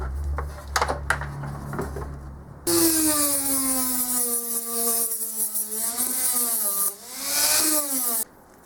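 A Dremel rotary tool cuts into a wooden guitar headstock with a loud, steady high whine that begins partway through and dips in pitch as it bites into the wood, after a few quieter knocks and handling taps.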